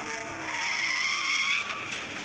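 A Corvette in a video game skids and drives over rocks off-road. Steady, loud tyre squeal and engine noise run unbroken for about two seconds, with no voices.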